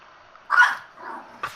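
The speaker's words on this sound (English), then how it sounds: "Your dog is hysterical." A pet dog gives a short, loud bark, followed by quieter yelps and one more sharp bark near the end, with no talking.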